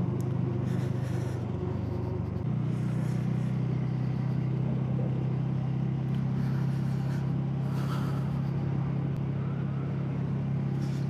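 A car rolls slowly behind a lorry on a road in Odisha, India, giving a steady loud engine drone and road rumble throughout, with a slight shift in engine tone early on and no talking.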